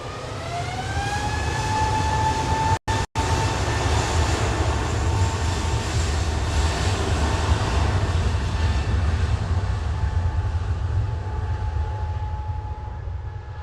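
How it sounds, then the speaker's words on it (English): An easyJet Airbus A320neo roars down the runway on its takeoff roll at Manchester Airport, a loud continuous engine rumble with a rising whine that climbs and then holds steady, broken by two brief dropouts. "EasyJet 229 to Prague, GUZLK A320 Neo on the roll there."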